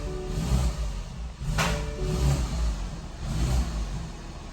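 A BMW engine running close by, a low steady rumble broken by a couple of sharp revving bursts that swell and fade back to idle, with no one speaking.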